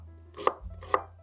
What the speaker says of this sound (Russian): Для приготовления начинки мне понадобится лук, режу средними кусочками.